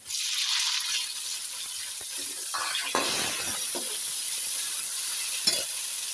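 Tomatoes go into onions frying in hot ghee, bringing a steady crackling sizzle with stirring scrapes and a few clinks from the pan, close up and with no voices.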